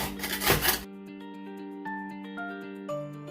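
A hand shaver blade rasps across a block of ice for Veracruz-style raspados in a loud burst lasting under a second, followed by sustained background music with no speech.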